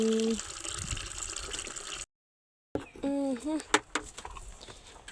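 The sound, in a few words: water being given to bullocks to drink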